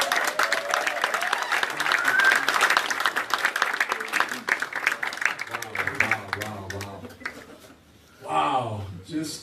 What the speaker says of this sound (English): with a resounding round of applause, please help me welcome the one and only reigning WWE World Champion, Kofi Kingston.